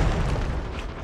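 A grenade going off in Call of Duty, one broad low boom that fills the whole moment and fades slowly, loud and close with no voices.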